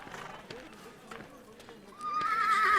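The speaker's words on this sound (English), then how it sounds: "So I'm assuming these are somebody else's horses." Horses in the Wild West Dynasty video game whinny and snort nearby with soft hoof clops, ending in a louder, drawn-out neigh.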